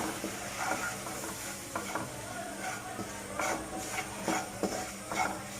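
Flour fries in a pan for a white sauce while a utensil stirs and scrapes it. A steady sizzle runs under repeated scraping strokes that come close and clear, with no talk.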